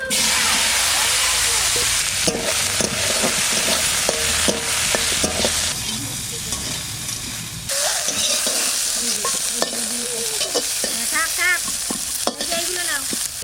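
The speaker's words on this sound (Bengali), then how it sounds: "এর মধ্যে কিছু ভেন্ডিও দেব ভেন্ডিটা একটু ভেজে নেব" Okra pieces fry in a pan with a loud, constant sizzle and frequent crackles, stirred with scraping clinks throughout, close and dense with no clear voices.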